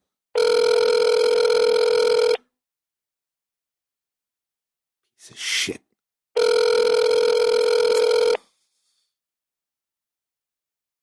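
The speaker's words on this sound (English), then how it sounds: "Phones ring on Sunday." A telephone rings out on an unanswered business call, two long loud ring bursts of about two seconds each separated by a pause, with a brief muttered voice in the gap between them.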